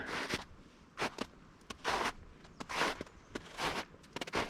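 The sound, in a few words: footsteps crunching in packed snow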